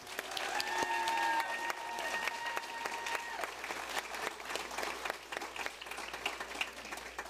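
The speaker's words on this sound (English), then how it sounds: "Round of applause for our high honors" An audience at a senior awards night applauds steadily, many hands clapping in a dense patter that starts strong and gradually thins out, with a few voices underneath.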